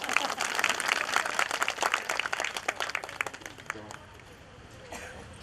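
Audience clapping at a Marathi Paithani saree event. Dense, brisk applause runs for about four seconds, thins and fades near the end, and voices talk over it.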